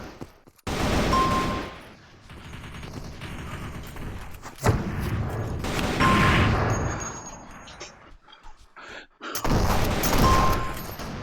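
Gunfire from a VR army shooting game comes in heavy bursts of booming, thudding shots with brief lulls between volleys, loud and close throughout.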